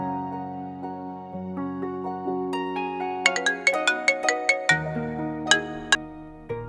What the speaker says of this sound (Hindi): अरे चाचा का फोन।